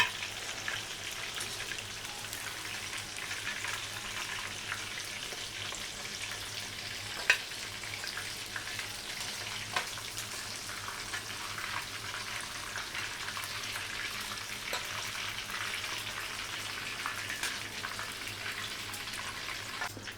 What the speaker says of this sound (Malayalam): ഇത് സെക്കൻഡ് ട്രിപ്പ് ചിക്കൻ പൊരിക്കാൻ തുടങ്ങി ഇതിന് ഈ ഓയിൽ തന്നെ മതി